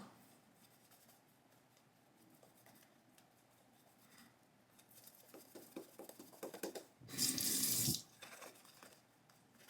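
Faint splashing and dripping at a bathroom sink while shaving, then a louder gush of running tap water for about a second as a Karve Overlander razor is rinsed, with quieter trickles afterward.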